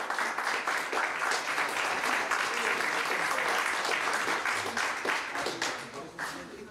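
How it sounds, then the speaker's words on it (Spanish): Audience applause for the winner of a chess tournament in San Carlos, a dense round of clapping from a modest crowd that holds steady for several seconds before tapering off. "Fuerte el aplauso para él, por favor."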